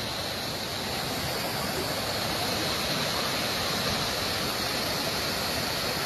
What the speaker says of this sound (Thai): น้ำตกใกล้ๆครับอันนี